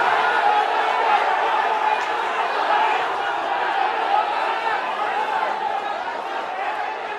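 A crowd at a schools rugby league match between St. Anthony's College and D.S. Senanayake College keeps up a steady, excited roar throughout, with a commentator talking over it.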